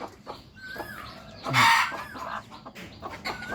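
Chickens cluck and squawk close by in a pen with newly hatched chicks, with one loud burst of squawking in the middle and softer clucks before and after.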